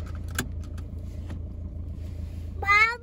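A car drives along a road in Estonia with a steady low engine and road rumble inside the cabin, a few small knocks, and a voice speaking briefly near the end.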